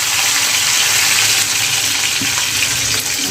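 Sliced onion and curry leaves fry in two ladles of hot oil, giving a loud, continuous crackling sizzle heard up close. It stays even and unbroken, with no talking.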